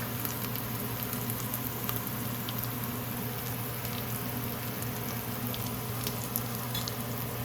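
Turmeric sizzles and spits in hot oil while frying for a lentil and spinach dal, a steady close crackle with scattered pops and no talking.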